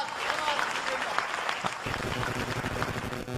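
An audience applauds at a Hindi poetry recital at a kavi sammelan in Mathura, a sustained wash of clapping at moderate level with voices mixed in.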